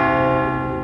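A single large cathedral bell rings loud and close, its rich harmonic tone sustained and slowly decaying.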